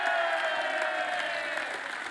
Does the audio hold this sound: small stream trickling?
no